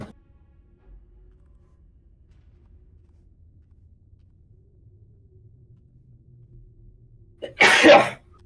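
A single sharp, loud sneeze bursts out near the end after a long stretch of near silence with faint low rumble.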